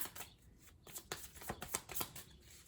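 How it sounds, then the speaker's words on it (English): A deck of tarot cards being shuffled up close, a run of quick riffling bursts and soft papery flicks repeating in an uneven rhythm, fairly quiet with no voices. "I don't want to just spend here all day just shuffling cards"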